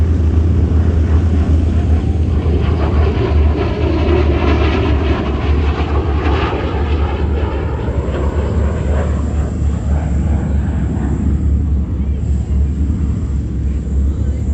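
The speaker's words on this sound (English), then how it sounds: "Now this one is actually the Lockheed 1049." A Lockheed 1049 piston airliner flies at an airshow in Shellharbour. Its propeller engines make a loud, steady droning roar that swells slightly and then holds for the whole stretch.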